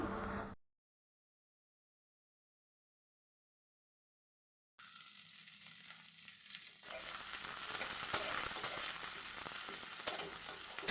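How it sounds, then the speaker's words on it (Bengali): Chopped onion fries in hot mustard oil with cumin seeds in a wok, a steady dense sizzle that starts after a silent gap and grows louder with stirring, with no voices over it. "আমি কড়াইতে সরিষার তেল দিয়ে দিয়েছি তারপরে একটু জিরা ফোড়ন দিয়ে দিলাম আর এখন এই তো আমি পেঁয়াজ কুচি দিয়ে দিলাম"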